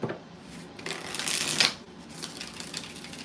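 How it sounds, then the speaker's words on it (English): Tarot cards being shuffled in a live reading, a steady papery riffling and sliding that swells to a louder burst midway, then settles into softer shuffling, with no talk over it. "I'm just gonna shuffle some more."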